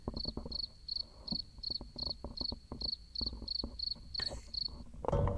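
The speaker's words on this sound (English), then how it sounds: "Crickets." Crickets chirp in steady, evenly spaced pulses, a clear repeating trill close by against a quiet background, with no talking.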